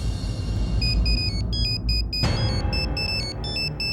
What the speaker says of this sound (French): Mais c'est le téléphone de Bulbul.